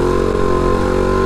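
A motorcycle engine held at high revs during a wheelie, a loud, close, continuous buzzing drone with a steady pitch and no pauses.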